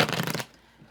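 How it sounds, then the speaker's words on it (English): A deck of tarot cards is riffled in a quick burst of crisp, rapid fluttering clicks lasting under half a second, close and fairly loud, then stops into near silence. "I'm going to shuffle"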